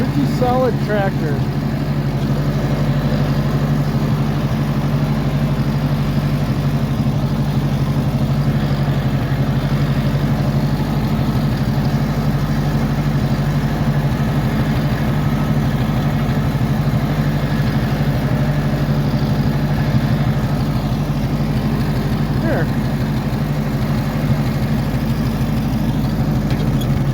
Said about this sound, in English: Pretty solid tractor.